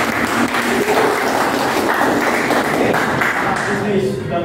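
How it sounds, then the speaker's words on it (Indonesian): Applause from a classroom of students, a broad continuous wash of clapping hands sustained throughout, close and fairly loud, with some voices mixed in. "sekarang tepuk tangan"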